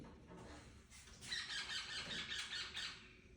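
A dense chorus of shrill squawks from a flock of parrots, starting partway through and continuing noisily to the end.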